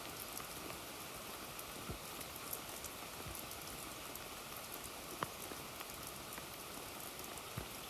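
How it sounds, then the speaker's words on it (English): Steady rain falls just beyond a small porch, a soft even wash of drops with occasional sharper drips hitting nearby surfaces, fairly faint and with no voices. "we knew it was going to rain sometime"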